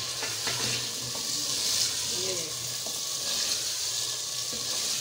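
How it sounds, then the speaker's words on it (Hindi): Softened chana dal tipped into a sizzling masala in a clay handi, with a steady bright fry hiss throughout and a few faint scraping knocks, close and moderately loud. "ये मैं चने की दाल डाल रही हूँ इस मसाले में"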